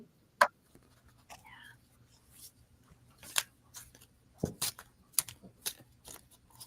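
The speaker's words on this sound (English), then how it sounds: "I'll try to shuffle them quietly here." Tarot cards being shuffled quietly give soft, scattered papery snaps and riffles at close range, in short irregular bursts against near silence.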